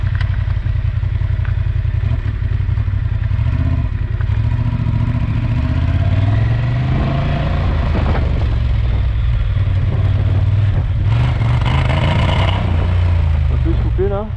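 A Honda Transalp 750 motorcycle engine runs steadily while being ridden, a loud continuous low drone with shifting pitch and wind noise throughout, and a rider speaking over it.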